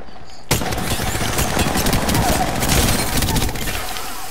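Rapid video game gunfire bursts loud and dense from start to finish after a brief quiet opening, with voices chattering underneath.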